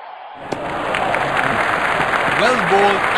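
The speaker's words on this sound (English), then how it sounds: "Crowd is going crazy." Cricket stadium crowd at an IPL match after a six, a continuous roar of cheering and applause swelling slightly, with a commentator talking over it.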